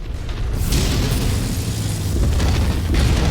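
Rumbling in-game missile blasts from MechWarrior 5 tear through a battle, a dense continuous roar of booms with a fresh hit bursting in near the start and another toward the end, loud and close with no talk.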